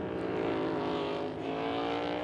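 NASCAR Cup Series stock cars race in a pack at Talladega Superspeedway, their engines roaring loud and continuous as they pass close together at full speed.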